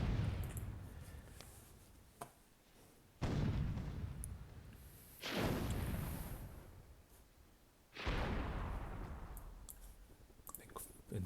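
Explosions and artillery fire in the strategy game Myth II: Soulblighter, in a World War II scenario: three heavy, booming blasts a couple of seconds apart, each with a long rumbling tail that fades before the next one hits.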